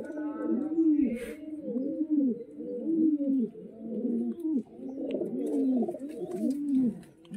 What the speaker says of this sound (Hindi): बाकी ये सभी कबूतर देखो यार इसमें आराम बढ़िया से रहते हैं पेटी में अंदर ही